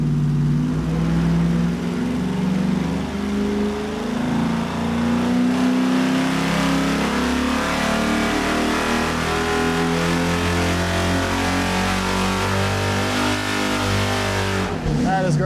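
A V8 on a dyno, fitted with budget cylinder heads and pulling about 327 horsepower, roars loud and close as it revs through a sustained run, its pitch climbing, then cuts off sharply at the end.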